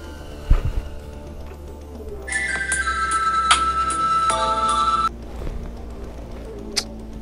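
Mobile phone left behind at home ringing with a bright electronic tone for about three seconds, fairly close, over a quiet room with a few faint knocks and movements.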